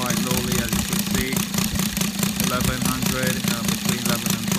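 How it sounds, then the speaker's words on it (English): A Saito FA-170 R3 model aircraft four-stroke engine, converted to run on gas with a modified intake manifold, idles low at roughly 1100 to 1200 rpm, giving a close, loud, steady chugging pulse throughout. "This one is idling quite lowly, as you can see,"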